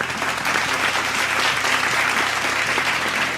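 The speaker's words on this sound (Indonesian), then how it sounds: "Boleh kita beri tepuk tangan sekali lagi untuk para panelis dan moderator kita?" Audience applause for panelists and a moderator at a panel discussion event, a steady, dense burst of clapping from a crowd throughout.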